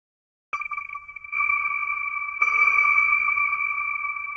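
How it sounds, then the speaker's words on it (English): Native Instruments Hypha synth playing a sustained, bright tone washed in cathedral reverb, entering sharply and thickening as new layers join, ringing on steadily with no voices. "let's change this reverb to a cathedral."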